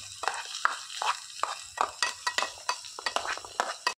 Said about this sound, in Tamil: வெங்காயம் போட்டுட்டு நல்லா வதக்கிக்கலாம்